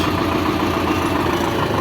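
A small tractor's engine idles in good working order, a loud, close, steady low rumble with a continuous mechanical clatter and no talk over it.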